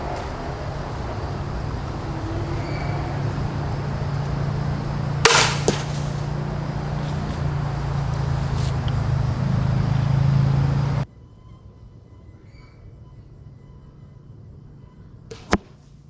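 A Ravin R10 crossbow fires into a block target: one sharp, loud crack with a quick follow-up thump, over steady outdoor hum that suddenly drops away to near quiet, then a single faint knock.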